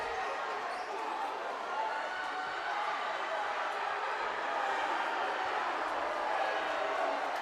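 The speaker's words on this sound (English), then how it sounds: "this crowd's already loud" Crowd roar at a packed varsity boys high school basketball game in a gym, a dense steady wash of cheering and chatter with a commentator talking over it.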